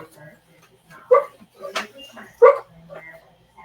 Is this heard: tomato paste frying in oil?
no